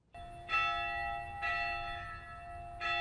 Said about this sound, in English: a bell calls the Sisters of St. Benedict to noon prayer